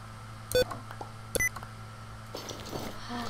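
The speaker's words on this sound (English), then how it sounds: "Oh, crap. Sticky keys." Short bursts of electronic beeps from the Windows Sticky Keys warning, two distinct clusters of bright tones rising over a quiet background hum, with faint clicks between them.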